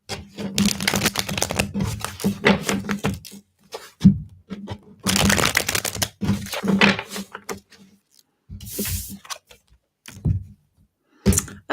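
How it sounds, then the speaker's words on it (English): Tarot cards being shuffled by hand in repeated bursts of rapid riffling and snapping, close and crisp, separated by short pauses and a few sharp taps as the deck is squared. "Let's give these a good shuffle."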